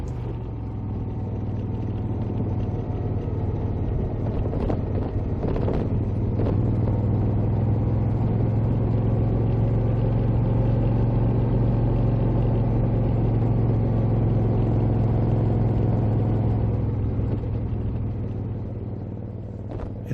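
A Moto Guzzi Eldorado motorcycle rides a damp forest gravel road, its engine giving a steady, loud rumble with wind noise that holds evenly throughout and has no speech over it.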